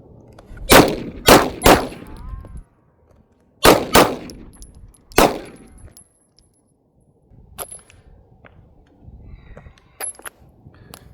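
A Glock 17 Gen 4 pistol fires sharp, loud shots in quick clusters of three, a pause, then three more, followed by fainter clinks and scattered small sounds.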